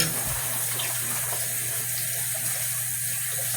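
Water runs out steadily during cleaning, a continuous loud rushing and gushing close by, alone without talk.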